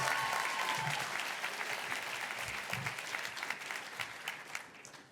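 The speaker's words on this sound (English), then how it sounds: "that deserves a big clap" Audience applause rings out at a 2024 dual enrollment recognition ceremony at The Universities at Shady Grove, a sustained, even crowd of clapping hands that gradually tapers off.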